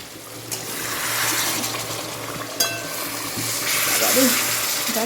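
Chicken sautéing in a pan on a home stove, a continuous close sizzle and crackle with stirring scrapes and a couple of sharp clatters, softly rising and falling, with a voice speaking faintly underneath.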